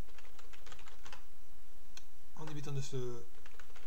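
Typing a root password on a computer keyboard during a Linux installation: a run of quick, light key clicks in an even rhythm, close by, followed by a brief burst of speech.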